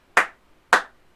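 A teacher gives two sharp, close hand claps, evenly spaced about half a second apart, leading a football clap rhythm in a primary school music lesson.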